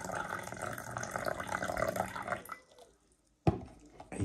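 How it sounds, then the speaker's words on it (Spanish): Water running from a kitchen tap, poured from above to stir up bubbles, a steady broadband splashing that fills the first two and a half seconds and then stops, followed by a short sharp clunk and quiet. "dejo caer agua del caño, grifo, agua corriente."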